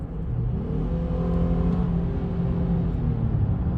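A 2022 Honda Ridgeline's engine holds its revs in a steady, continuous drone, the low hum staying loud and even throughout without dropping off.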